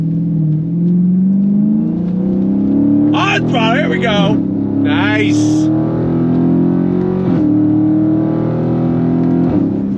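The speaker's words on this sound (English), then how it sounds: "You get a nice loud pop when you shift." A Dodge Charger Scat Pack's powerful engine revs up, rising in pitch and dropping with a loud pop as it shifts gears, loud and close, while a person speaks briefly over it.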